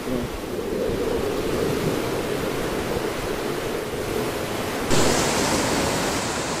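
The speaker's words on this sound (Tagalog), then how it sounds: "kahit sa taas hinahabol pa rin ng alon" Steady, broad roar of strong sea surf with wind on a fishing trip, continuous and fairly loud, swelling brighter near the end; no voices.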